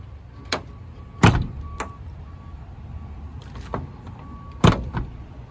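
A car door is pulled shut with solid thumps, two heavier slams standing out among lighter clicks and latch knocks inside the cabin, over a faint electrical hum and quiet background.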